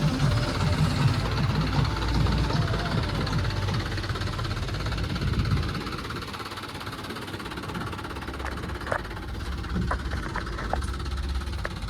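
A heavy diesel engine from a JCB and a lorry runs steadily nearby at a village site. It gives a continuous low rumble and knock, louder in the first half, then eases into a lower drone with a few faint clicks and no talk.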